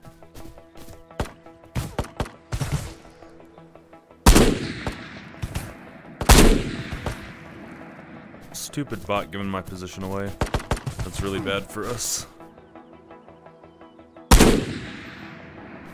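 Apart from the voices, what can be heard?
gunshots in video game Ghosts of Tabor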